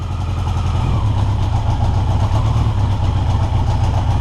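A 1982 Yamaha XJ650 motorcycle engine idles on its first start after work on the clutch, a loud, steady, close rumble with an even pulsing beat and no speech over it.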